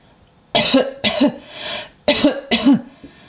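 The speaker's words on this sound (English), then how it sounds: "I think George is coughing" A young cartoon child coughs four times in two quick pairs, each cough harsh and voiced, close and fairly loud against a quiet background.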